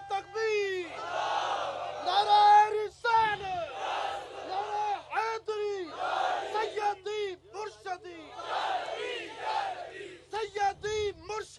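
Large crowd at a religious gathering chants slogans in loud, rhythmic call-and-response bursts, voices rising together repeatedly with brief pauses between chants.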